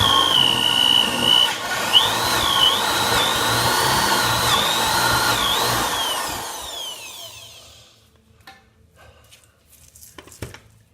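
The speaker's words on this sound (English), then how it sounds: "Forstner bit for this and the drill, and again just drilling down a little bit farther so that the upright support will fit" Power drill with a Forstner bit boring down into a log for a handcrafted log railing, a loud steady whirring grind with pitch shifts for about eight seconds before stopping, followed by faint clunks and handling noises.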